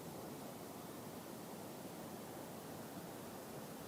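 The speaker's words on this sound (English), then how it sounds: "So I can hear the sea." Surf breaking on the shore at Land's End after dark, heard as a steady, soft broadband wash of waves at a distance, continuous and even, with no voices over it.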